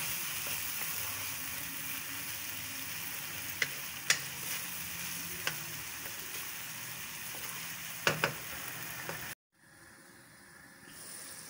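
Masala spices fry in a pan for an eggplant and potato dish, a steady close sizzle dotted with small crackles and ticks, cutting off abruptly near the end before a quieter stretch.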